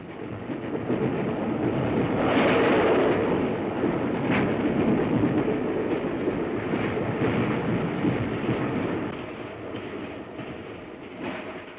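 A 1939 LMS steam locomotive hauls a heavy 450-ton passenger train along the track, giving a loud, steady rolling rumble with a rhythmic beat of wheels for the whole stretch, with no voices.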